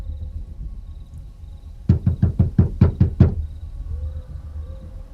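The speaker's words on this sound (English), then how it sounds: "there is someone banging at your door" Someone bangs on a door with seven quick, heavy knocks in a steady burst, loud and close against a quiet room hum, then stops.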